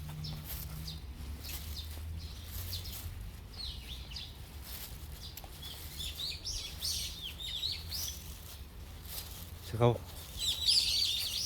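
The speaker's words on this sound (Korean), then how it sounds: "아이고, 새소리가 굉장히 반갑네." Small birds chirp and twitter in a park during a barefoot walk, scattered bright calls at a middle distance, growing busier toward the end, while someone speaks briefly over a steady outdoor background.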